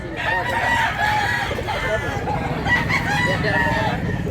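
Roosters crow and chickens cluck close by at a gamefowl yard in Mantalungon, Cebu, several birds overlapping in a loud, busy chorus through the whole stretch.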